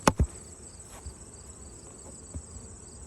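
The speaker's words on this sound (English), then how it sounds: "Another good box of bees." A thin, steady honeybee buzz hums throughout after two soft knocks at the start, bees droning around a hive during a September hive check in Michigan.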